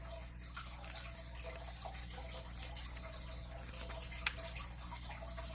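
Tap water runs steadily as a constant faint hiss and rush with occasional small splashes, heard alone at a distance.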